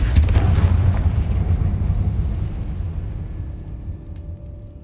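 A Confringo spell explodes in the Hogwarts Legacy video game with a loud, booming blast that hits at once and then rumbles away over several seconds, with no talk over it.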